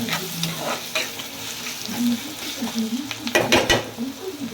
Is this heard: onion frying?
yes